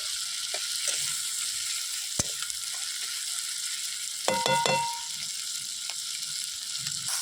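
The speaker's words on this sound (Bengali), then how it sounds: "আমার জিরে লঙ্কাটা ভাজা হয়ে গেছে" Cumin seeds and dried red chillies frying in hot oil over a wood-fired stove, a constant close sizzle with a sharp utensil tap and a brief clattering scrape midway, no voices.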